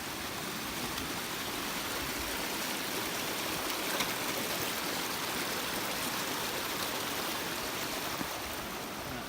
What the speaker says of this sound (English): We've got our first minor water crossing right here.